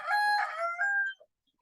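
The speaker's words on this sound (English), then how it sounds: "Here comes the rooster right on time." A rooster crows once, loud and close, a single drawn-out call that cuts off cleanly, followed by a brief faint cluck and quiet.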